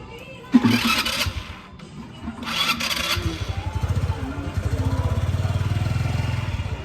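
A motorcycle struggling to start in cold weather: a sharp crank at first, then the engine catches and settles into a steady, loud, pulsing idle close by, with brief noise bursts early on.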